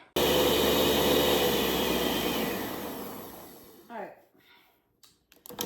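A kitchen blender mixes a drink, a loud steady whir for about four seconds that tapers off, followed by a few brief clunks and a short voice.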